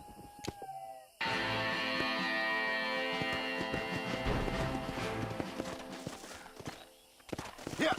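A horse in Red Dead Redemption walks with steady clip-clopping hooves and gives a whinny, heard close up after a sudden start, against a sustained game ambience that fades toward the end.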